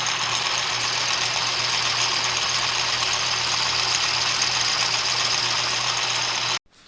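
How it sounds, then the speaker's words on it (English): A power drill bores a 3/8 inch hole in wood for a sturdy toy wooden fishing pole, giving a loud, steady motor drone with a low hum that runs about six and a half seconds and then cuts off abruptly. "let's drill that 3/8 hole before I forget"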